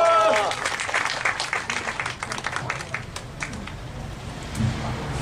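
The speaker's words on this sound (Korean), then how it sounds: "큰 박수로 모시기 바랍니다" Rally audience at a labour union protest gathering applauding, a burst of clapping that starts strong and gradually thins out, with a voice briefly heard at the start.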